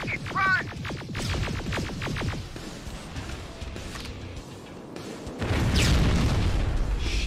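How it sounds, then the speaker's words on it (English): Rockets go off in Terminator: Resistance, with several sharp bursts and pulsing blasts early, a rumbling lull, then a louder heavy explosion surge near the end, all alone with no talk. "I just heard rockets go off"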